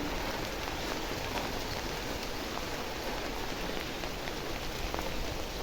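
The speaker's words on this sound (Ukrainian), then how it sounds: "Дощик гарний, такий же ж гарний." Steady, dense rainfall hissing on surfaces, even and continuous throughout with no voices.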